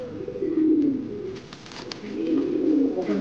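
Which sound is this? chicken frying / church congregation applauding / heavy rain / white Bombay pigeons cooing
white Bombay pigeons cooing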